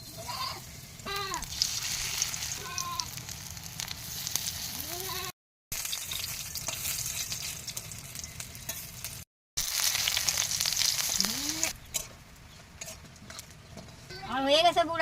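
Chili fritters frying in oil, a steady sizzle with crackle throughout, a few short breaks and a voice talking over it at times.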